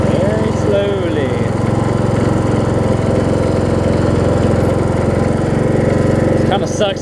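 A Weed Eater AYP riding mower's engine runs steadily and loudly close by as the mower drives slowly in reverse, a continuous rumbling drone with a few brief squeaks near the end.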